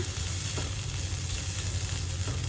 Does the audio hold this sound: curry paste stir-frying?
yes